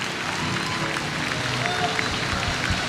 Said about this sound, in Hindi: यीशु के लिए तालियां बजाएं जोर से